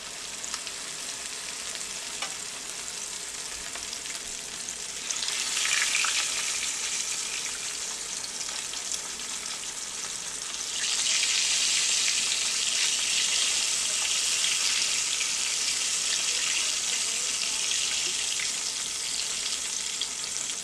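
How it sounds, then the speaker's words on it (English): Flour-coated squirrel meat pieces frying in hot oil give a constant close sizzle that jumps louder twice as more pieces drop into the pan, with no talking. "the oil is a good heat there. I'll go ahead and drop these pieces in."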